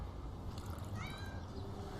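A single faint, high cat meow rising and falling over a low, steady background hum.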